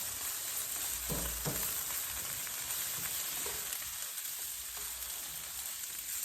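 Vegetables sizzle and fry in a pot in a home kitchen, a steady close crackle with a few soft stirring knocks and no talking.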